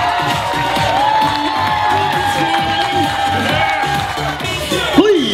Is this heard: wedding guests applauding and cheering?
yes